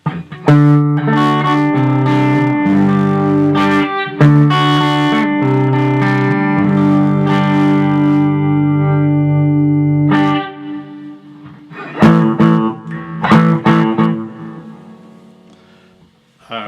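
Electric guitar played through a SansAmp amp simulator, sustained crunchy chords and riffs, loud and close, ending in choppier picked notes with no talking.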